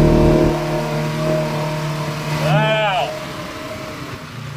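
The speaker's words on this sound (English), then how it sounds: "So it's a 2023 or 24 Polaris RZR" A 2023 or 2024 Polaris RZR side-by-side revs on the Oregon sand dunes: a close, droning engine note rises in pitch through a quick throttle blip, while a voice exclaims briefly.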